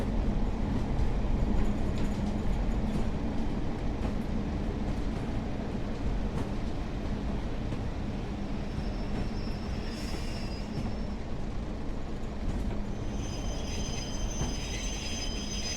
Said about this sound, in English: So I need to get used to this train.